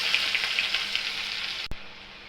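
Chopped onion hits hot oil with dry chilli and kalonji seeds, producing a bright, continuous sizzle with small popping bursts, then a sharp knock followed by a slightly quieter hiss.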